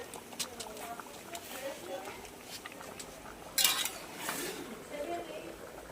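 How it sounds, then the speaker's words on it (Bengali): Chicken pieces tossed with Everest chicken masala are stirred in a pan for a chicken kosha, with a spoon scraping and clinking against the metal under a speaking voice. "চিকেন মশলাটা দিয়ে এবার নাড়ছি, ভালো করে কষিয়ে নিচ্ছি।"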